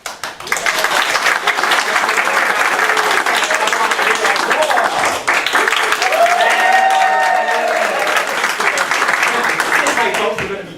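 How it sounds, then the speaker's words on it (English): A studio audience at a live radio show claps and cheers loudly and steadily for several seconds, a dense close wash of applause with a few raised voices over it. "Whenever the light goes on, I want to hear a big, warm cheer from you guys"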